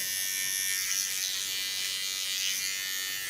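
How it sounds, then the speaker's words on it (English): An electric hair clipper cuts a man's longer hair in a salon, giving a close, steady high buzz that runs without a break. "the large clipper, that comes to the small clipper"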